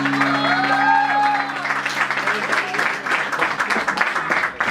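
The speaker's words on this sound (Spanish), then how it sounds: "aplauso a la maestra, a Jorge Lugo." An audience applauds at a live music event in a café venue, a dense wash of clapping lasting throughout, with a held musical tone fading out early and voices mixed in.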